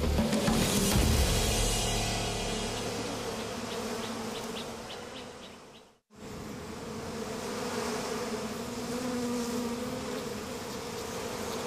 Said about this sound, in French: le reste des abeilles est très en colère